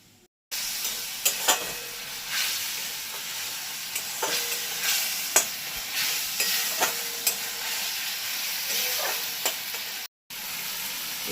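Ground spices, including chilli, cumin and turmeric powder with salt, are stir-fried in a pan for Bengali potol kofta, giving a steady sizzling hiss broken by scraping spatula strokes and clatters close by, with no voices.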